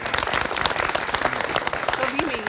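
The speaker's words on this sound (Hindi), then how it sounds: "कभी ताली बजाइए इनके लिए।" An audience applauds at a televised political discussion, a dense burst of clapping heard together with voices.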